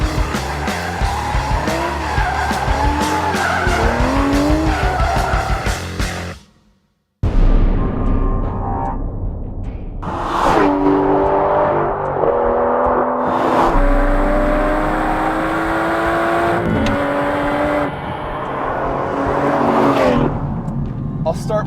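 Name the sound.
2015 Aston Martin V12 Vantage S driving a figure-8 lap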